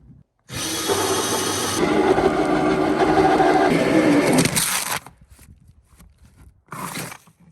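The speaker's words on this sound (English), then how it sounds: "If you put the drill go in the right direction, makes it go a lot faster." A power drill whirs loudly and steadily for several seconds, grinding down through a wooden floor for a toilet drain hole, then stops; a brief faint burst of sound follows shortly after.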